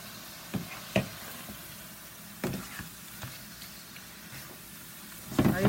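Ackee and saltfish cooking in a very hot pan, with a steady soft sizzle broken by a few sharp knocks and utensil clatters at irregular moments, close and moderately quiet.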